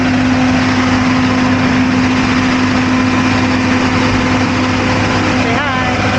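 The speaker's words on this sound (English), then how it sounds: "That GPU is running right there, so if you hear it in the background, that's what that is." An aircraft ground power unit runs steadily beside a DC-8 on the airshow ramp at EAA AirVenture Oshkosh, a constant engine drone with a strong hum throughout, and a brief whistling sweep near the end.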